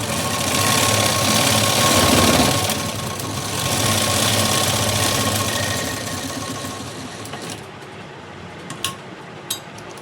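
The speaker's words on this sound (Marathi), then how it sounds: "लगेच मी इथं दुसरी शिलाई देऊन घेते." A sewing machine runs steadily while stitching the front panel of a blouse, a continuous close whirring motor hum that slows and stops near the end, followed by a couple of light clicks.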